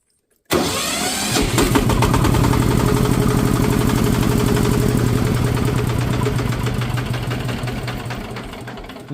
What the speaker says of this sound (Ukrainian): А тепер з декомпресометром як буде.